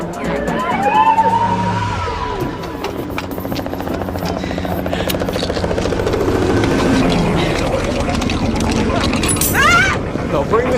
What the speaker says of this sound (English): bring the chopper in from the back